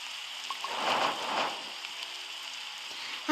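Rain in the video game 99 Nights in the Forest falls as a soft, steady patter that swells briefly and then settles back to a quiet wash.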